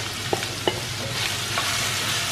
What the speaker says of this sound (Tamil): இப்போ வந்து இதில் சாப் பண்ணி வச்சிருக்கிற நார்த்தங்காவை போட்டுடலாம்